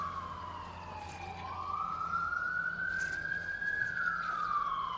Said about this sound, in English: That's our ambulance here now